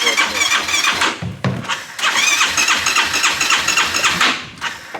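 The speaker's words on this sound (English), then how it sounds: "So it should fire up right now, yeah, huh?" A Harley-Davidson CVO motorcycle engine cranks, catches and fires up loudly up close. A brief squeal accompanies the start, then the engine settles into a rough, throbbing idle that fades slightly at the end.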